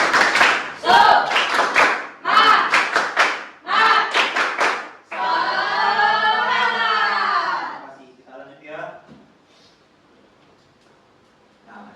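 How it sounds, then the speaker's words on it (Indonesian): Classroom of students doing a rhythmic 'tepuk semangat' clapping chant during an Al-Qur'an Hadits lesson, with quick chanted voices and claps in bursts, then a sustained group shout before fading to quiet. "Oke, tepuk semangat."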